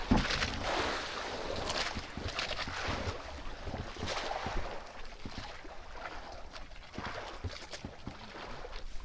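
Wind blowing from the south at sea aboard a small fishing boat preparing for a trip, a steady rushing roar buffeting the microphone with water and hull noise mixed in, no talk.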